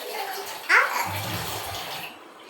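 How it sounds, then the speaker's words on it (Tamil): Tamarind water is poured into a pot while rasam cooks at home, a brief splashing pour that surges and then trails off quietly. "இந்த புளி தண்ணி ஊற்றுறோம்."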